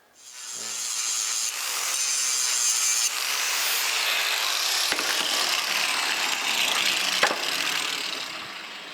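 A hand saw rasps steadily through excess wooden rods on a custom wood-grain steering wheel for a 1956 Chrysler 300. The strokes are close and loud, with no pauses and no talk.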